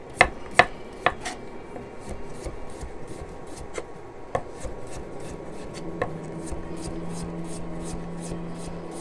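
Knife chopping pumpkin into large chunks on a board, a run of sharp, close cutting knocks at first, then sparser thuds over a faint background hum.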